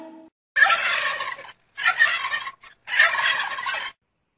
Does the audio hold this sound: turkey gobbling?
yes